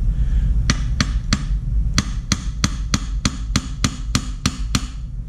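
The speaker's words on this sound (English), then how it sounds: "just take my little jobber here, just tap it lightly" A small tool lightly taps a pin out of a stainless Cold Steel 4Max folding knife: about a dozen crisp, sharp metallic taps, close and evenly paced, over a low steady background hum.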